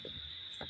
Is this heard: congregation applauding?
no